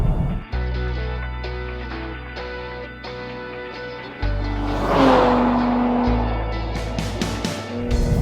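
A 2023 Nissan Z sports car engine revs hard and climbs in pitch through several shifts, loud and close, with a brief squeal midway.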